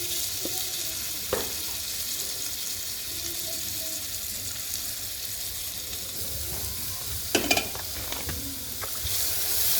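Lentils frying in a pan with onion, garlic, tomato, salt and turmeric powder give a steady low sizzle throughout, with a few sharp clinks of stirring near the start and end, close by with no talk.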